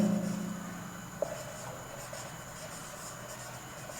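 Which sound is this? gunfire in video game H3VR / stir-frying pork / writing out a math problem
writing out a math problem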